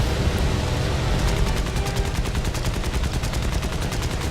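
Rapid aircraft machine gun fire in War Thunder, a dense string of quick regular shots rattling loudly over engine roar, steady and without talk.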